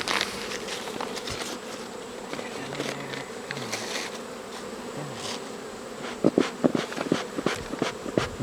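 Honeybees buzz steadily and close around a first-year hive, forming a dense drone throughout, with a few faint knocks and handling sounds near the end.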